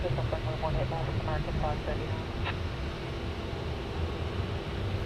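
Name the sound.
Qantas airliner at DFW airport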